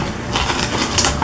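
Onion and fiery kanthari chilli being crushed together for a Kerala chutney, a close, loud run of rapid knocking and grinding clatter with no talking.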